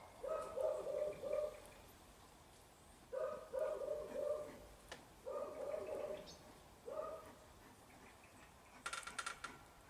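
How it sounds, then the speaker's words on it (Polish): A dog barking somewhere in the neighbourhood, distant and faint, in four short clusters of barks spaced a few seconds apart over quiet background, with a brief clicking noise at the end. "Nawet pies szczeka w okolicy, a ty cicho."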